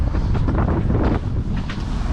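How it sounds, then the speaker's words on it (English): Wind blows across a 20-foot Seahawk boat, a loud steady buffeting roar on the microphone throughout, with no voices. "Now we do have wind"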